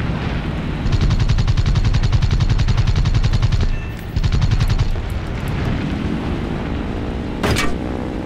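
Aircraft machine guns fire in War Thunder during an attack on a Zero, with the player flying an N1K2-J Shiden Kai: two loud, sustained rapid bursts of gunfire over a steady engine drone, followed by a short sharp crack near the end.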